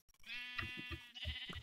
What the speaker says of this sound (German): Das ist die Schafe.